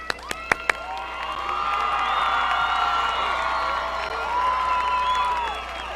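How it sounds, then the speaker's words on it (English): A graduation audience gives sustained applause and cheering, a broad crowd roar with a few sharp claps at the start, moderately loud and steady throughout. "Let's give them a big round of applause again."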